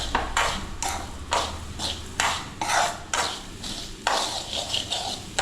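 Repeated scraping and clattering of a utensil stirring a sugar mixture in a metal pan, steady rhythmic strokes, close and fairly loud.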